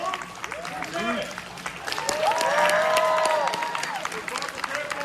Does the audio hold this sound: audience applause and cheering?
yes